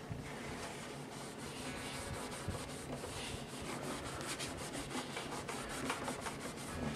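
Hand rubbing compound being worked across the paint of a 1920s Montgomery Regal produces a steady, faint, continuous rubbing and scrubbing texture, alone with no talk.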